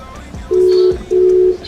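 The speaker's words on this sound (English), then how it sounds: "Let me give him a call right there." A phone call is dialed, two loud, clean steady tones each lasting about half a second with a short gap between, over faint background noise.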